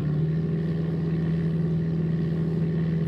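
Simulated aircraft engine drone from a flight simulator game on a Windows 98 PC, a steady, even hum with a strong low tone, throttled up and holding level throughout.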